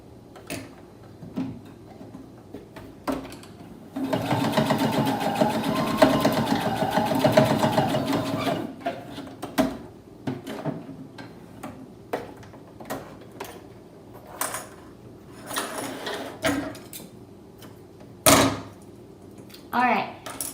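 A sewing machine runs a seam for a face mask's elastic casing, a steady mechanical whir lasting several seconds, followed by scattered handling clicks and fabric rustles with brief talk.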